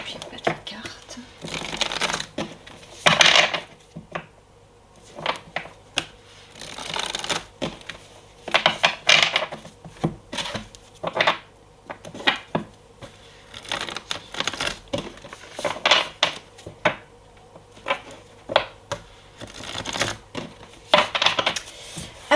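Tarot cards are shuffled, handled and laid out during a love reading, giving soft rapid riffles, slaps and papery rustles in bursts, with a person talking quietly between them.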